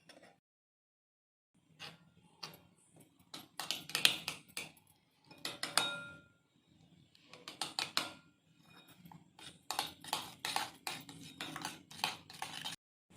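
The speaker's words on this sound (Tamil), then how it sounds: "இந்த அளவுக்கு நுர வர வரைக்கும் முட்டையை நம்ம நல்லா அடித்து எடுத்துக்கிட்டோம்." Eggs beaten with turmeric, pepper and salt in a bowl for a spicy bread omelette, whisked until frothy: after a short silence, bursts of close, brisk clinking and scraping come in irregular rhythmic runs, with no talking.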